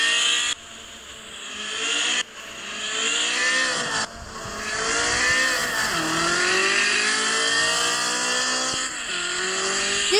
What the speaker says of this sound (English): This car is so fast!